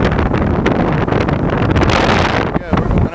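Heavy wind buffets the microphone high up in a lift bucket beside a church steeple, a loud, gusty rumble that never lets up, with a voice partly buried beneath it.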